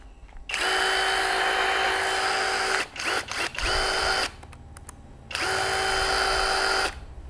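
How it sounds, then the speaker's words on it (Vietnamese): An electric drill fitted with a wall drilling bit whines loudly in three sustained bursts, with short stop-start blips and pauses between them. "Đây em lắp cái mũi khoan các bác này"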